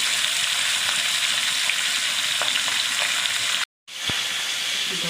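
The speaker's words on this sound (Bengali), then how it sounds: "অল্প অল্প করে আমি ভেজে নেব মাছটা" Pieces of fish fry in a pan with a dense, loud, steady sizzle close by, briefly cut off by a short silence before the crackling resumes; no one speaks.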